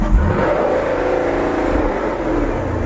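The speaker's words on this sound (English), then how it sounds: "I'd still like to see it rev a little quicker than that" A 3-valve Ford Mustang engine revs close by, one sustained, loud, rising engine roar holding steady throughout, with no talk over it.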